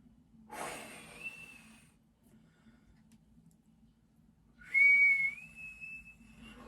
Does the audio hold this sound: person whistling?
yes